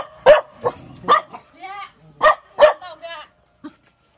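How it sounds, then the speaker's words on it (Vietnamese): Several house guard dogs bark in sharp, close bursts outside a rural home, mixed with yips and a whimper, the barks spaced irregularly over a few seconds. "Nhà có 5 con chó trông nhà. Sợ thật. Sủa cả buổi sáng."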